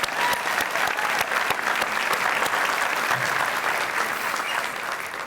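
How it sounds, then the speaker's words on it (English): A crowd claps steadily throughout, a dense, sustained round of applause that fades slightly toward the end. "let's give yourselves a round of applause"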